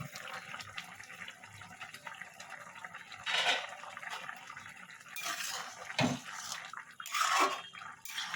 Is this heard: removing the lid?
yes